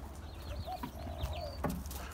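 Backyard hens settled in their coop for the night, clucking softly in low, intermittent murmurs with a few sharper calls, steady and close, with no talking.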